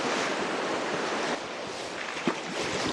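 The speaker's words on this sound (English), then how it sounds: "There's a little waterfall right next to us." Steady broadband rush of a small waterfall close by in the Narrows at Zion, a constant white-noise roar with a brief soft knock near the end.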